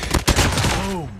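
A short burst of gunfire in Call of Duty Online lands a headshot, with sharp, close cracks in the opening half-second followed by a brief tonal game cue.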